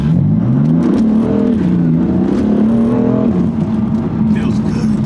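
A 2022 BMW M4 G82 with a DCT gearbox pulls hard from a stop sign, its engine rising loud and close in pitch, shifting and climbing again before easing off, with a voice talking over it.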